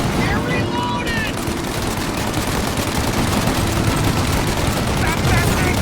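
Sustained gunfire in a shootout in the video game Mafia: Definitive Edition, a steady, loud barrage of rapid shots with brief shouted voices mixed in.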